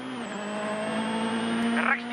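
A newly liveried WRC rally car runs through a stage at Wales Rally GB 2011, its steady engine drone loud and continuous with a high whine, briefly swelling near the end, while a commentator talks over it.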